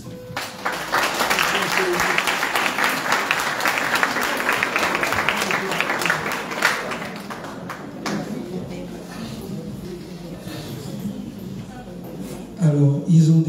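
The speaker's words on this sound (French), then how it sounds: "Sous vos applaudissements." Applause from a concert audience inside Saint-Louis Cathedral in Port-Gentil, a dense spread of clapping that fills the reverberant space for about eight seconds, then thins and fades, with some talking and a louder burst near the end.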